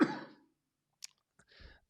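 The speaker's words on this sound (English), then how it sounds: "COVID cough coming, hold on." A single loud cough at the start, followed by a brief sharp click and a short low throat-clearing rumble, with silence in between.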